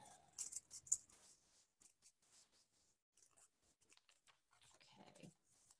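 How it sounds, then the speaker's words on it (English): Scissors cut through cardboard in a run of crisp, close snips and rustles, loudest at first and then quieter, followed by a few softer scraping crunches. "Cutting out my cardboard."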